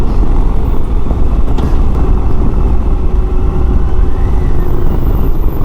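A 2022 Harley-Davidson Heritage Classic motorcycle engine rumbles steadily and loudly while riding, a dense continuous low drone mixed with wind, with no clear gear changes.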